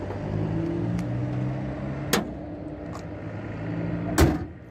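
A car bonnet closed during a driving-lesson engine bay check, two sharp metallic thuds a couple of seconds apart, close and loud over a steady low idle hum.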